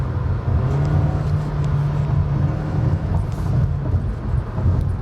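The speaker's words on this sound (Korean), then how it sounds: "엔진 소리도 확실히 달라졌죠. 가솔린 엔진이 좀 날카롭게 힘쓰는 그런 소리" A Hyundai Kona small SUV with a turbo gasoline engine accelerates in sport mode, giving a loud, steady low engine drone with rising strain and road rumble heard from inside the cabin.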